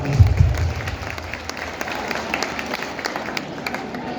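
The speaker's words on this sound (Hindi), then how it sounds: "एक बार ताली बजा दे" An audience at a college annual function in Jamgaon applauds, giving a dense, steady wash of clapping from many hands that carries on throughout.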